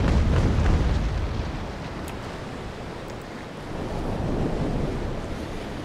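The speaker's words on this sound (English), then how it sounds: "Oh, the wave got me." Heavy ocean surf surging and crashing against a sailing ship in the naval game Naval Action, a loud continuous roaring wash with rumbling low swell that eases slightly mid-way and builds again.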